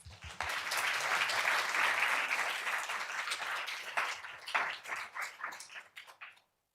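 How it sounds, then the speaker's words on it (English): An audience at a conference talk session breaks into a sustained round of applause that swells quickly, holds dense and steady, then thins into scattered claps and dies away. "Round of applause."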